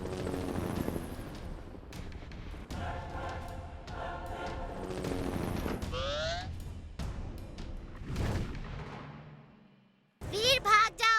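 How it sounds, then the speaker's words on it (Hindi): Robot toys in a Hindi cartoon firing laser beams, a chaotic burst of electronic zaps, whooshing sweeps and thuds layered with music and shouting voices, dropping briefly before sharp loud blasts return. "वो लेजर बीम से फायर कर रहे हैं।"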